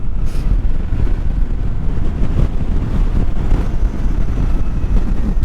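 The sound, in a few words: wind blowing while riding an electric motorcycle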